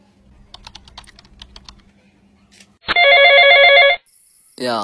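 A burst of light keyboard tapping is followed by a loud electronic telephone ring lasting about a second, then a brief pause and the start of another ring.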